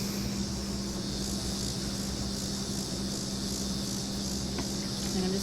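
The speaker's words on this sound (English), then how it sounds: "you're going to hear some crickets or whatever that noise is over there," Crickets chirp in a steady, dense outdoor chorus, a continuous high trill with a low background hum underneath; moderately faint and unbroken throughout, with no voices.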